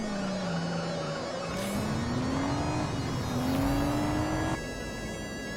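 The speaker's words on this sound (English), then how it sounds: "This is a Class 3 Mitsubishi 3000 GT, where usually we'd be doing it in a completely stock Class 6 3000 GT" A Class 3 Mitsubishi 3000 GT engine in the Juiced racing game revs loudly and continuously, its pitch climbing through several gear changes before settling into a steadier drone.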